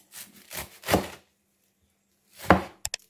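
Fresh parsley being chopped with a knife on a board in a home kitchen, a few quick thuds in a short burst, then a pause and another chop followed by two sharp taps, close and clear with no talking.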